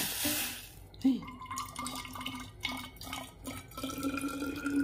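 Hot water is poured into a flask-type bottle at home, a soft trickling and gurgling stream that stops and starts under low background noise.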